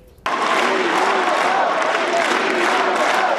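An enthusiastic crowd applauds and cheers for President Barack Obama at a gun control speech at the University of Hartford, a dense, loud, sustained roar of clapping that starts abruptly and carries on steadily.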